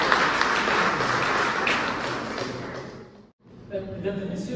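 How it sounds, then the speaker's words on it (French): Audience applause at a Sorbonne stage presentation of Le Sultan Bonaparte, a dense, steady wash of clapping from a crowd that fades out near the end before a few faint sounds return. "Des applaudissements pour Ahmed Youssef."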